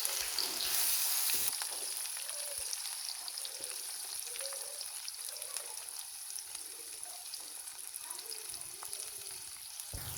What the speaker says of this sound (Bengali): এখন পেঁয়াজ বেঁধে নেব